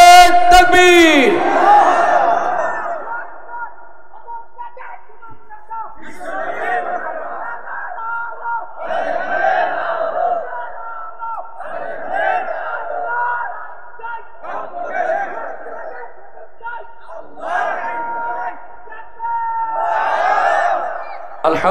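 A large crowd at a Bangladeshi religious sermon gathering chants Allahu Akbar in answer to a takbir call, with repeated loud, reverberant group shouts rising and falling in bursts after a single voice leads.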